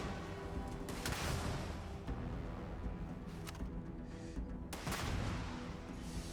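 Grenade launchers fire in the Starfield video game as sharp blasts that punctuate a dense, loud, rumbling stream of combat explosions and gunfire, with no talk over it.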